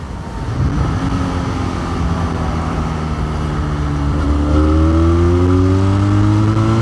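Benelli 502C motorcycle engine revving up under acceleration, its steady drone rising in pitch through the gear as speed builds, loud and close throughout with no talk.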